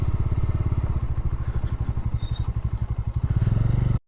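A motorcycle rides along a rural road, its engine thumping in a loud, rapid, steady pulse that cuts off abruptly at the end.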